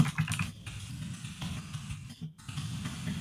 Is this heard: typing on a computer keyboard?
yes